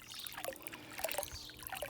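Water heated for garden watering trickling and flowing in a continuous faint stream with small splashy bubbling, quiet and alone.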